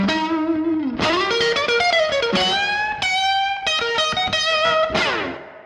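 A Stratocaster played through a Fender Deluxe Reverb amp rings out in a short bluesy lick of bent notes and quick picked runs, bright and twangy with a touch of reverb and light drive.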